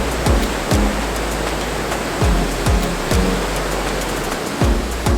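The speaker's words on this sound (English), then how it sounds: "because the waterfall is right there, and sometimes it splashes onto the walking path" Waterfall at Termessos in Turkey, splashing near a walking path, gives a steady broadband roar of falling water throughout, with a few brief low thumps mixed in.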